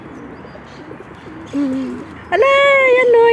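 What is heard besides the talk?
pigeons cooing while perched on a hand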